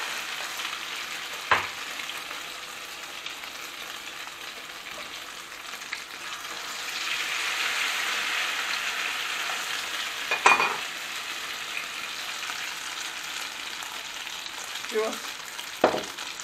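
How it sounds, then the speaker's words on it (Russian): Waffle cakes dipped in beaten egg fry in oil in a hot pan on high heat, giving a steady, quiet sizzle with a few brief clatters of utensils. "Жарим на сильном огне, готовится моментально они."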